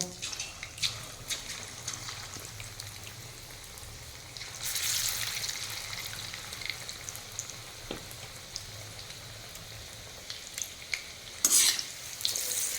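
Marinated chicken pieces for chili chicken fry in hot oil in a kadai (wok), giving a steady low sizzle with scattered stirring and scraping, and a louder bubbling burst as more pieces drop in.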